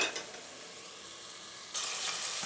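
Diced lamb or beef cubes sautéing in a pan for a Turkish şevketi bostan stew, a steady soft sizzle that swells louder near the end, with no talking.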